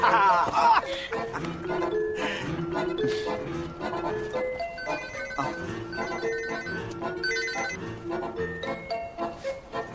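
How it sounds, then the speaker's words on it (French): A telephone rings repeatedly in a scene from a 2004 Christmas comedy-drama film, its tones mixed into busy background music and household sound. "Tu réponds pas au téléphone?"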